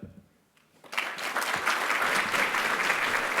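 Audience applause at a school Mother Tongue Day celebration and ceremony, starting after a brief quiet moment and swelling into steady, dense clapping from a sizeable crowd that holds to the end.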